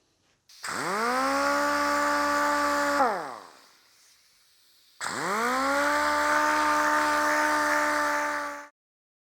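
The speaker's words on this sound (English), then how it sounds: "I'm gonna start with some 220 grit on a DA sander and just, go real slow." A DA sander fitted with 220 grit paper runs steadily while taking paint off aluminum door trim, sounding as two long, loud whirring passes separated by a brief spin-down pause, with no voices.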